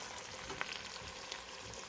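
Vegetables for a potato soup with beans and carrots fry in a soup pot, giving a steady, close crackling sizzle with soft bubbling, heard alone without voices.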